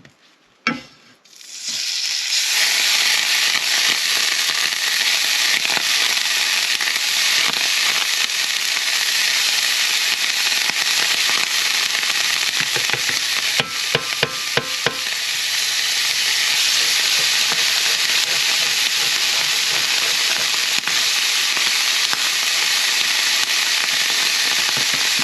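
Butter and pancake mix frying in a cast iron pan, a loud continuous sizzle that flares up after a brief quiet start and holds steady throughout, with a few faint clicks midway and no talk.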